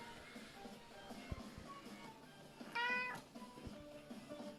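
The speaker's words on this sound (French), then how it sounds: "Qu'est-ce que tu fais, mon chat?" A house cat gives a single clear, drawn-out meow about midway, standing out over quiet indoor background noise and a few soft knocks.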